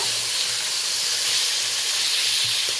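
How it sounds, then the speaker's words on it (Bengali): Grated onion added to hot spice mix with green chilli and tomato, giving a loud, steady sizzle and hiss from the pan throughout, with faint low knocks of stirring underneath. "আর গ্রেট করা পেঁয়াজ দিয়ে দেব। এবার এটা 3-4 বার ভালো করে নেড়ে নেব।"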